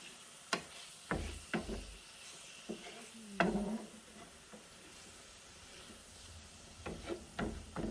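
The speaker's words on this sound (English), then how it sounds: "just stir fry it around a bit" Ingredients for jjamppong, the Korean seafood noodle soup, are stir-fried in a hot pan over high heat, with a soft sizzle beneath sharp scraping clacks of the utensil against the pan, arriving in irregular bursts.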